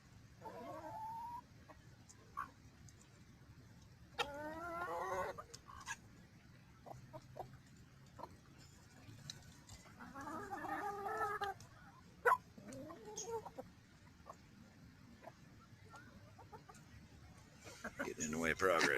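Chickens eating scraps from a refrigerator give scattered clucks and short squawks at moderate distance, separated by quieter stretches of low background noise.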